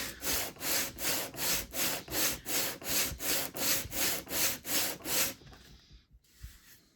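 A Japanese hand plane's sole is rubbed back and forth on 120 grit sandpaper, making a rhythmic rasping stroke about twice a second, close and fairly loud, then stopping with a few faint knocks.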